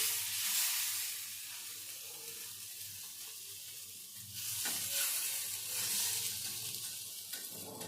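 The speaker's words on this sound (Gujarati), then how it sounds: "થોડા મિક્સ હર્બ એડ કરી હવે આપણા બનને શેકી લઈશું" Buns roast in ghee with red chilli powder and mixed herbs in a pan over a very low flame, giving a steady, close, hissing sizzle that swells louder about halfway through, with no voices.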